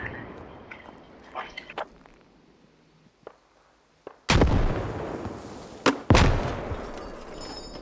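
Gunfire and grenade explosions in the military shooter game Squad: sparse distant shots at first, then a loud heavy blast with a long rumbling tail, followed by two more sharp loud bursts.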